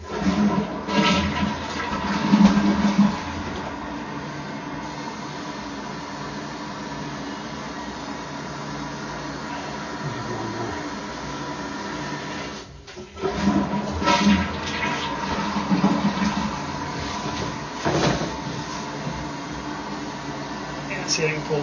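A residential toilet is flushed over and over, water gushing and swirling loudly with a constant mechanical hum underneath, a brief lull midway before the rushing resumes; a voice speaks now and then.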